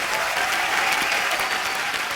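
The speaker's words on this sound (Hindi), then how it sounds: "जोरदार तालियां एक बार हमारे मेहमानों के लिए" Studio audience applause on a comedy talk show, a steady, loud, dense wash of clapping from a crowd, continuous throughout with no voices on top.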